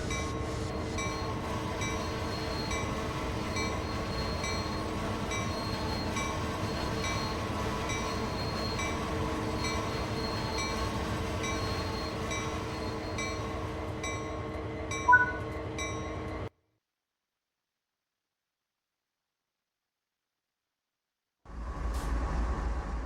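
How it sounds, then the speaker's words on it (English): A GE AC4400CW freight diesel locomotive in a railway simulator on the Sand Patch Grade, droning steadily with a constant engine hum, a brief knock near the end, then a sudden cut to silence before the rumble resumes. "This locomotive is the AC4400CW built by General Electric Transportation of Erie, Pennsylvania"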